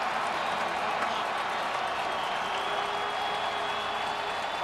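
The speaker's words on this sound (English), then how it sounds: "Crowd on their feet again." Baseball crowd at a rainy Oakland ALDS playoff game roaring and cheering in a steady, dense wash of noise that holds throughout without a break.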